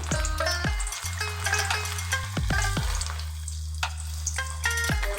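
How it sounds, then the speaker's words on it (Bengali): Lote fish popcorn sizzles in hot oil in a kadai with a steady crackle and occasional stirring, while tuneful electronic background music plays over it. "অল্প অল্প গ্যাসে ভেজে নেবেন"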